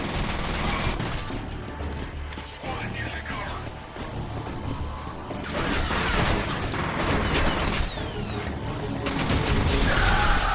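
Rapid, laggy video game gunfire with bursts of automatic shots and explosions crackling through a dense, continuous battle mix, steady and loud throughout, with a player's voice talking over it.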